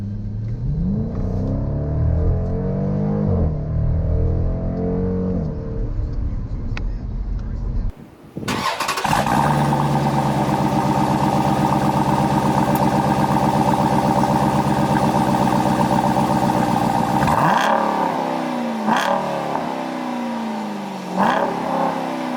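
The engine of a 2018 Dodge Durango SRT, a nearly 500-horsepower SUV, runs loud and close, shifting from changing revs into a sustained, steady drone and then easing off near the end.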